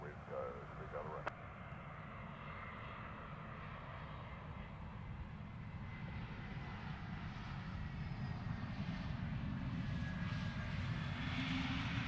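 An airliner landing at Luton Airport roars steadily and grows louder across the whole stretch, a broad engine rumble at middle distance, with a voice talking over it.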